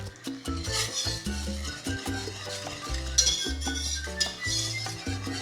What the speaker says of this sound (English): I'm gonna use my whisk to get rid of all those little mustard balls and horseradish in there